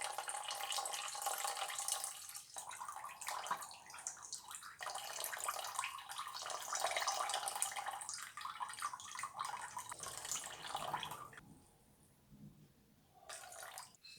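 Water pours steadily from a tap into a container on a kitchen scale, a continuous splashing trickle that cuts off near the end, then a brief final splash.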